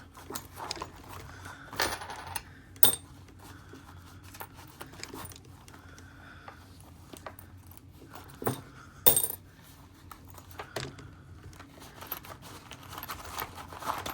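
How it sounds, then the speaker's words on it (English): Coins tumble out of a coin jar onto a surface, a quiet run of scattered metallic clinks and rattles with a few louder bursts of jingling spread across the stretch. "Bring all the coins out."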